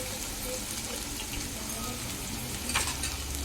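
Chopped onion frying in oil for matar Maggi, a soft steady sizzle at low volume with a brief splash of liquid near the end.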